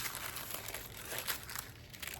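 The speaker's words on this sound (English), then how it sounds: "I'm just taking the scissors" Scissors trim a sheet of gel-printed paper along a pencil line, giving a faint, crisp crinkling rustle against quiet room hiss.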